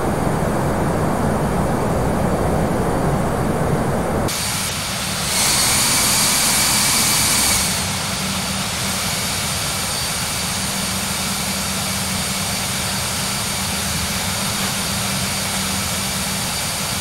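Airliner jet engines cruising in Flight Simulator X, a steady broadband roar with a high whine that shifts around four to eight seconds, then settles into an even, continuous hum with no voices.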